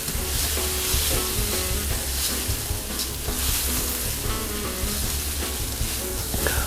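Arborio rice sweats in a pan of butter and shallot, giving a loud, steady sizzle and crackle close up with occasional stirring and no voices.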